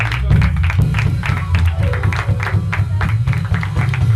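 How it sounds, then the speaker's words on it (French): A studio audience at a Saturday-night dance show claps steadily to welcome dancer Bigel Sandrine, a dense run of hand claps with crowd noise and a low musical hum beneath. "On va recevoir sur ce plateau avec les applaudissements les plus nourris"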